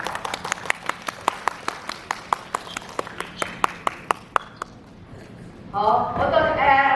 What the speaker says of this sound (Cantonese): 俾啲掌聲啦！